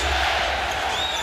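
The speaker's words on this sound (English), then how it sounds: "Crowd on its feet, chanting defense." Basketball crowd at a Lakers playoff game in Denver, on its feet and chanting defense, a loud, dense roar of massed voices filling the arena with no break.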